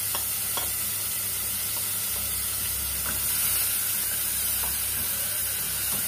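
Onions fry in a pot of oil for fish-style rice with a dense, even sizzle and hiss, broken by faint scrapes and clicks of stirring, under a low background hum and with no talking.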